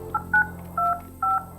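Keypad tones from dialing an extension on a Polycom VVX 411 desk phone: four short, clear beeps in an uneven rhythm, fairly quiet and close, with no talk.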